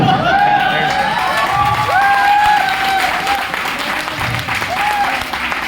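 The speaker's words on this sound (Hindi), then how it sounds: "जब ताली बजाओ ना, ताली बजाओ" Participants at an indoor leadership training session clap and cheer loudly, with whoops and shouts rising over a steady wash of applause.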